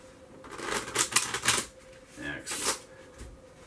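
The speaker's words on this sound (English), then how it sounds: "Give it your most precise shuffle." Cards being shuffled in several quick riffling bursts, close by, with short pauses between them.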